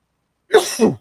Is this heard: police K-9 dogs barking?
no